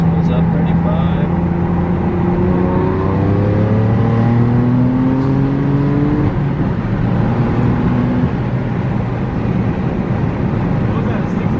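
A BMW F80 M3 fitted with Stage 2+ turbos accelerates hard, its loud engine note climbing steadily through the revs as the turbos spool, with people talking over the roar inside the car.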